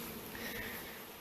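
Honey bees buzzing steadily during a farm bee removal, a continuous close hum of insect wings with no talking over it.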